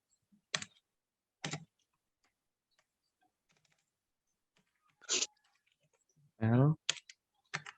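Sparse keystrokes on a computer keyboard while HTML is being typed: a few isolated, quiet clicks spaced out over several seconds, with a brief voiced sound near the end.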